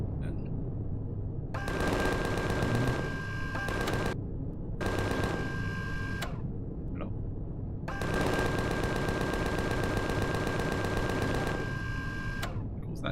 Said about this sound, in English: I'm quite happy to use the Gatling guns.